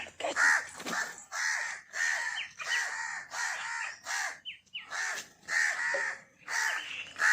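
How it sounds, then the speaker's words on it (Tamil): Crows caw repeatedly and loudly nearby, a steady run of harsh calls in short bursts with brief gaps and no talking. "இந்த பக்கம் காக்கா ஒரே கத்துறது வரும்"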